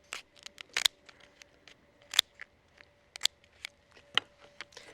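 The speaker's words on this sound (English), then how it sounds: "The first step is to cut it down the back using sturdy scissors." Sturdy scissors snip down the back of a Moreton Bay bug's shell, a cluster of sharp, crisp clicks and crunches in an irregular rhythm, close and fairly quiet, with no voices.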